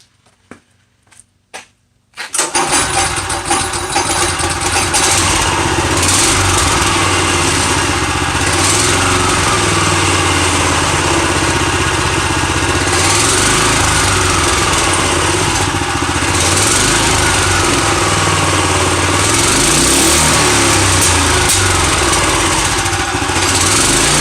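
A free go-kart's small engine starts after a brief pull and runs loudly and continuously, with an uneven, rough idle throughout.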